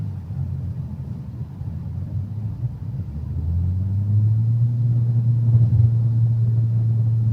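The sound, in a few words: car engine at full throttle, 3,500 RPM pull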